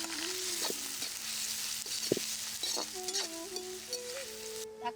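Onions sauté in a pan for a country chicken curry cooked outdoors. A steady, close sizzle runs throughout with occasional stirring knocks, and a voice talks over it.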